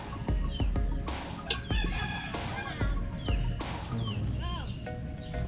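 Chickens clucking and a rooster crowing repeatedly nearby, with people talking underneath.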